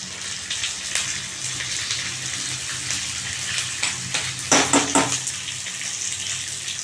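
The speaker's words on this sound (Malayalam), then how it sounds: "രണ്ട് മുളക് പൊട്ടിച്ചത് കടുക് ഉരുവ ഇതൊന്ന് പൊട്ടി വരട്ടെ" Mustard seeds, urad dal and broken red chillies splutter in hot oil for a Kerala sadya kalan, a steady close sizzle with a brief cluster of sharper pops partway through.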